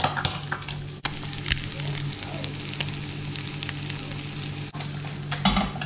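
Breaded, crumb-coated food fries in butter in a pan, giving a steady, loud, close sizzle and crackle throughout, with a few brief clicks and shifts as the pan is moved.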